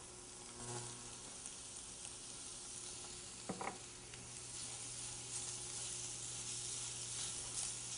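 Black beans hit a hot pan with tofu in a vegan migas skillet, giving a steady, quiet sizzle and crackle with a brief clatter of stirring midway, no voices.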